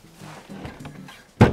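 A soft sliding rumble followed by a sharp wooden knock, like a craft room drawer being pulled open and stopping, close by.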